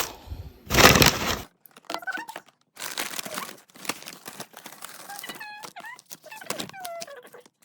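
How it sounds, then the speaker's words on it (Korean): Crinkling and tearing of an Ozempic prescription package during unboxing, a loud crackling burst of paper or plastic at the start, then scattered handling rustles, taps and brief squeaky scrapes close by, with a voice speaking briefly. "그래서 지금 제가 픽업한 오젠픽을 언박싱 해볼게요"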